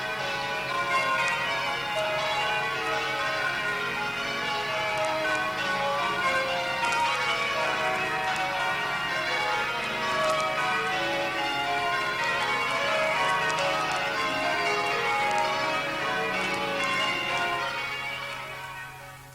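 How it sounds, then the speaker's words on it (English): Church bells at Washington Cathedral ring a continuous peal, many overlapping strikes in a steady cascade, loud and reverberant, fading slightly at the end. "In some odd corners you might hear an echo at the same time as the bells themselves."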